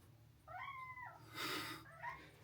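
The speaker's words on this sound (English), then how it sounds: "Dude, this cat is in heat," A cat in heat gives two drawn-out, wavering yowls close by, with a brief rustle between them, in a quiet room.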